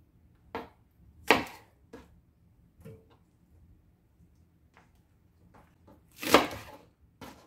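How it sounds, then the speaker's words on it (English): A knife chops through green onion bottoms on a cutting board in a handful of sharp, separated thuds, a few louder than others, with quiet pauses between. "let's go ahead and prepare our green onion. Chop the bottoms off"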